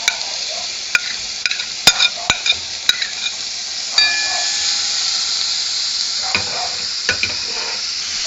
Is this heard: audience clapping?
no